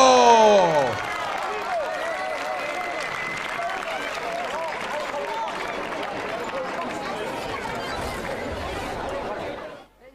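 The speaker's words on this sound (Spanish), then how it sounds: "dorsal 54, ¡es aplauso!" A roadside crowd at a soapbox-cart gran prix applauds as racer number 54 crosses the finish line, sustained dense clapping mixed with chatter lasting around nine seconds, with a commentator's voice briefly heard at the start.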